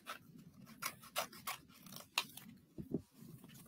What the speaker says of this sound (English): Older children, you can get to use the scissors and do a big swirl as well.